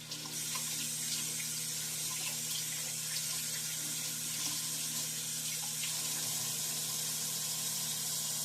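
Tap water runs steadily from a kitchen faucet over fresh herbs, a continuous close splashing hiss into the sink with no talking.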